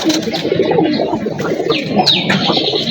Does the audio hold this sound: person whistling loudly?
no